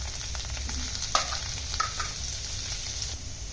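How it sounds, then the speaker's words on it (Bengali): Salted potato pieces fry in hot oil with an even, crackling sizzle. A couple of brief clinks and stirs break through the steady hiss. "সেই আলুগুলি ভেজে নিচ্ছি।"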